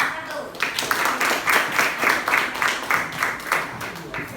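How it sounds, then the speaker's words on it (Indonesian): A classroom of students claps for a presenting group, a fairly faint patter of clapping with rhythmic pulses, a few voices faintly underneath. "Tepuk tangan untuk kelompok 1"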